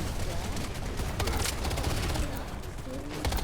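Rapid automatic gunfire from the animal-themed shooter game Wild Assault, loud sustained bursts under excited voices of players talking.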